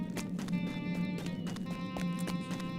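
In Lord of the Rings Online, horse hooves beat in a quick irregular rhythm over a steady low game drone, close and moderately loud.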